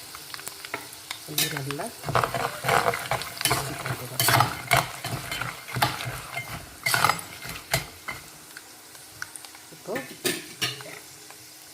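Asafoetida fries in a pan while a spoon scrapes and stirs, producing repeated clanking metal strokes over a continuous close sizzle, with a brief word or two spoken.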